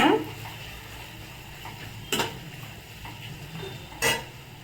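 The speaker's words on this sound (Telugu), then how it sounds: "కరివేపాకు వేసుకున్నాక ఇంకొకసారి కలిపెట్టేసుకున్నాను జస్ట్ కొంచెం స్మెల్ కోసం" Spoon scraping and clinking in a pan while semiya upma with curry leaves is stirred, two sharp metallic knocks standing out over a low, steady kitchen background.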